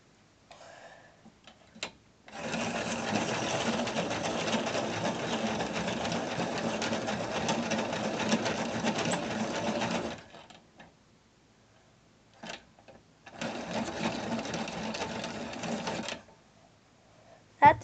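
A Boston hand-crank pencil sharpener grinds a pencil in two bursts, a long steady whirring crank of about eight seconds, a pause with a few clicks, then a shorter three-second burst, close and fairly loud.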